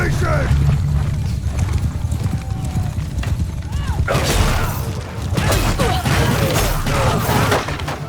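Cavalry horses gallop in a Bannerlord battle, dense thundering hoofbeats with occasional whinnies, clattering armour and crashes, loud and continuous with shouted voices mixed in.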